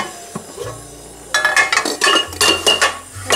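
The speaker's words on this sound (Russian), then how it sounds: "Соответственно, 2 сковороды нам понадобятся." Two metal frying pans are handled in a home kitchen, clanking and scraping in a quick run of loud, close metallic knocks and rattles after a quieter start, with no talking.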